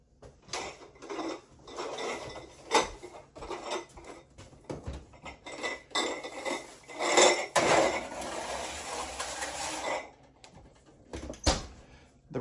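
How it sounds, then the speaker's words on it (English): Glass canning jars are loaded into an oven preheated to 185 for dry canning. Close, repeated clinks and knocks of glass give way to a brief, brighter rattle midway. "Now that oven is preheated to 185, we're gonna go ahead and get those jars in the oven"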